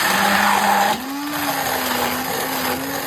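A mixer grinder whirs loudly as it spins soaked wheat grains, a steady motor drone that drops slightly in pitch and load after the first second and keeps running.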